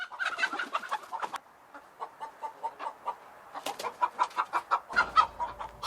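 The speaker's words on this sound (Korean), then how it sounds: "닭들이 제법 컸습니다." Young hens cluck steadily in a garden coop, their rhythmic, close calls overlapping in a busy flock chatter that swells near the end.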